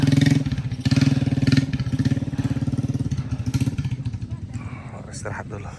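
Motorcycle engine running steadily on a mountain road near the summit, a mid-pitched drone that stays loud and close before fading slightly toward the end, with someone talking over it.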